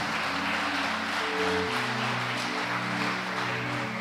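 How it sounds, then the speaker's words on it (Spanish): A church congregation claps in steady, dense applause throughout, with sustained organ-like tones held underneath. "Denle un aplauso al Señor."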